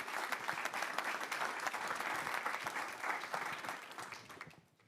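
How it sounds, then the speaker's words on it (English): A round of applause from the audience at a university forum, many hands clapping at an even level before fading away at the end. "please, great round of applause."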